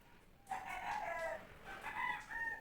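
Hens clucking in a brooding setup, several birds sitting on eggs in crates and bowls; a steady run of fairly close, drawn-out clucks and murmurs after a brief quiet start.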